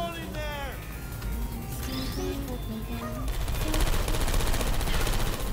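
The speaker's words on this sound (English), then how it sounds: "I heard gunfire" Bursts of rapid gunfire in the video game Portal 2 mix with electronic tones and effects, the shooting growing denser and louder toward the end.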